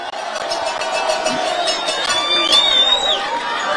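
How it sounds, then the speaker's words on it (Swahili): A large outdoor crowd at a political rally in Nakuru roars and cheers steadily, with a dense wash of voices, clapping and a shrill whistle rising above the noise. "Mjipigieni makofi."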